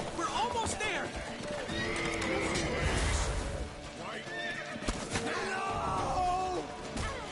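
Horses from The Witcher 3 whinny repeatedly while hooves clop steadily underneath, close and fairly loud, with shouting voices and scattered thumps of combat mixed throughout.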